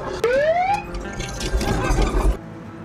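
An old privately owned ambulance lets out a loud, close siren: a short rising wail that sweeps upward and then breaks into a rough warbling tone over engine rumble, cutting off after about two seconds.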